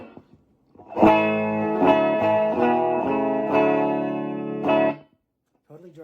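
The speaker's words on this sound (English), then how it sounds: "Totally dry sound from a Boss Katana." Dry, unaffected bass guitar tone through a Boss Katana amp: several loud sustained notes ring out over about four seconds with no talking over them, then a brief voice follows.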